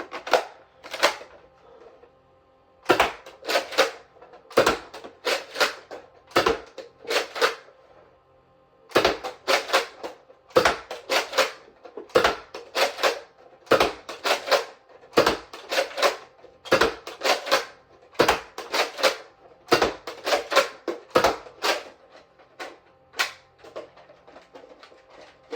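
A Nerf Elite Retaliator blaster fires Elite darts from a 12-round magazine on a range, sharp snapping shots in quick clusters of pumps and releases, fairly close, with brief pauses between bursts.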